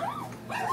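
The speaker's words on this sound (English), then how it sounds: "This is what Rachel gets for teaching him how to speak and howl as loud as he can." A dog howls in a brief, rising and falling wail, pausing for a moment before a second upward howl, close and fairly quiet.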